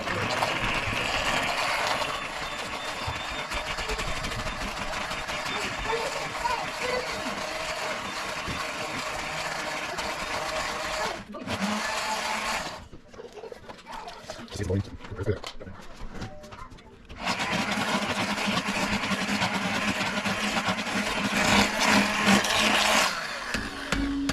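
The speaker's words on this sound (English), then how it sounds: "I'm going to get my immersion blender and blend this up." An immersion blender churns a pot of beanie weenies, a loud, steady close-up motor whir and grind that stops for several seconds midway, then starts again and runs to the end.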